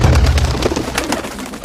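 Pigeons cooing from Reigns, loud and close in a dense low burbling murmur that runs through the whole moment without any talk.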